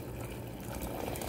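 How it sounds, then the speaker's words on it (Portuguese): Water pours steadily into a pressure cooker over dried beef, a continuous close splashing fill with no break and no speech. "eu vou colocar a carne seca lá na panela e coloco água até cobrir todinha a carne"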